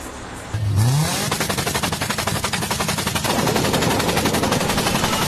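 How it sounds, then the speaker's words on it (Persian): A car with a torn exhaust gives off a loud, harsh, rapid rattling blat, like machine-gun popping, rising with a brief rev at the start and then chugging steadily throughout, with no voices. "صدای ناهنجار اگزوز."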